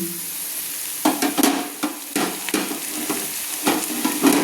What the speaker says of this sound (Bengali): দিয়ে দিচ্ছি আমি 150 গ্রাম সজনে ফুল দিয়ে আমি ভালো করে আলুর সঙ্গে নেড়ে নিচ্ছি।